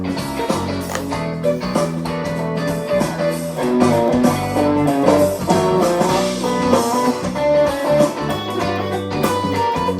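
Electric guitar playing a lick at a slow, deliberate pace, notes ringing out over a full, sustained tone with no talking.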